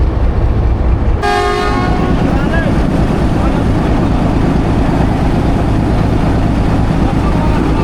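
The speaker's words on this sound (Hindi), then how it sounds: "फर्स्ट डिपार्चर विसल दे दिया है" A locomotive departure whistle sounds at a railway junction, breaking in about a second after the start as a loud, held tone over the steady heavy rumble of a Millat Express passenger train in Pakistan.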